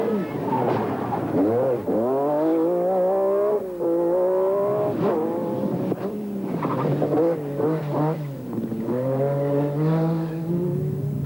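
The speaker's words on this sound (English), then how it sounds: "McRae got the chance to show the flat-out approach on the opening 1-mile spectator stage in Bellahouston" A 1986 rally car driven flat-out on a one-mile spectator stage in Bellahouston Park, Glasgow: a loud, close engine revs hard and climbs through the gears, with tire squeal, over an unbroken roar.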